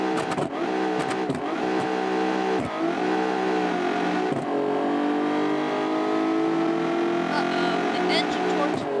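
A very loud car engine in the BeamNG.drive racing game revs and accelerates continuously with a turbocharger, a steady droning roar with shifting pitch and brief dips that sound like gear changes.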